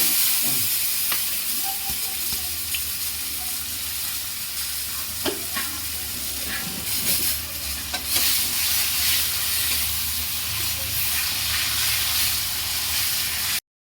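Taro greens hit a hot frying pan with hilsa fish head, giving a steady, loud sizzle and hiss with stirring scrapes and clatter throughout, no voices.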